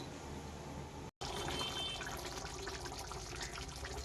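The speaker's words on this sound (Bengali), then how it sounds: "মশলার বাটিটা ধুয়ে জল দিয়ে দিচ্ছি, বেশি জল দেবো না।" Water rinsed from a spice bowl is poured into a pot of cooking chicken, a short steady close pour with a brief break, no talk.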